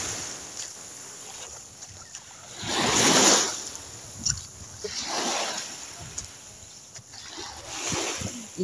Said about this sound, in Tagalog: Ang ingay ng alon.